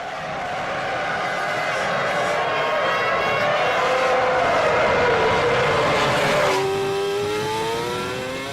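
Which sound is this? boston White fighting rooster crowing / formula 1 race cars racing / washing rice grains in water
formula 1 race cars racing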